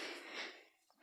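A person out of breath from climbing a hill takes one heavy, wheezy breath, close and quiet, with no other sound around it.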